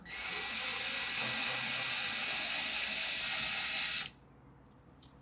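Steady, loud hissing rasp of 1500-grit sandpaper worked across a shifter knob, continuous for about four seconds before stopping abruptly, leaving quiet room tone and a faint brief click.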